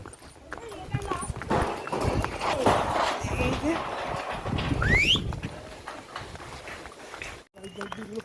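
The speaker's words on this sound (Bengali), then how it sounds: "দেখুন এই রাস্তা দিয়ে যাচ্ছে ঘোড়াগুলো" Horses plod along a trail in Pahalgam, Kashmir, their hooves clip-clopping in an uneven rhythm close by, while people talk over the steps and a faint bird call rises briefly.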